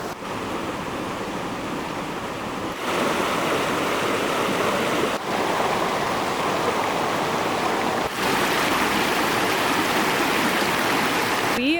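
A mountain stream in Nevada's Ruby Mountains flows in a steady, loud, close rush of water, continuous and unbroken throughout.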